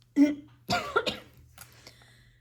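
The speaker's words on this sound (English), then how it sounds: "Excuse me for the coughing." Several close coughs in quick succession, sharp at first and trailing off into softer ones.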